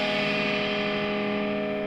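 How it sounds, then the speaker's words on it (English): Distorted electric guitar sustains a harmonized step-and-a-half interval, a steady held chord with thick overdrive, alone and fairly loud throughout. "in a harmonized context, our step and a half again sounds like this."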